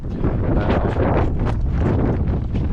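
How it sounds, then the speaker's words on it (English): A strong wind gust roars across a lugger sailboat riding at anchor, a loud, continuous buffeting rush over the microphone without voices. "Oh, that's a gust."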